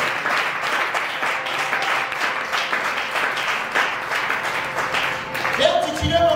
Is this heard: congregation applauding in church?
yes